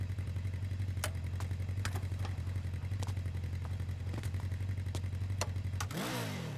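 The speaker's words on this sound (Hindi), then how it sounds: "बाइक साइड में लगा।" A motorcycle engine runs nearby with a steady, loud idle and light mechanical ticking, then revs up sharply near the end.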